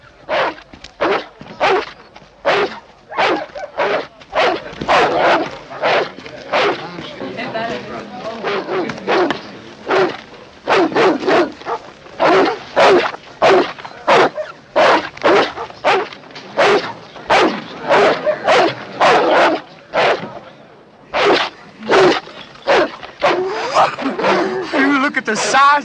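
Barking from a dog said to look rabid, foaming white at the jaws, sounds as a long run of loud, close, rapid rhythmic barks and snarls with a voice mixed in, though whimpering is not evident.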